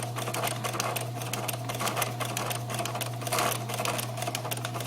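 Sewing machine stitching fabric for a hedgehog snuggle bag, run slowly with rapid steady needle clatter over a constant motor hum, close and continuous with no talking.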